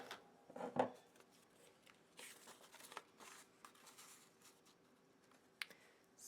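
Scissors snipping a paper doily for a handmade card, a few soft, quick cuts with crisp clicks and rustles, close by and quiet, with no talking.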